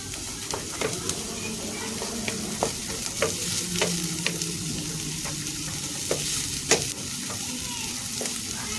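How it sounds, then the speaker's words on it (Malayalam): Majboos chicken being stirred in a pot, with steady frying sizzle and regular scraping strokes of the spoon against the metal, close and fairly loud, with no talking. "നമുക്കൊന്ന് ഇളക്കി കൊടുക്കാം"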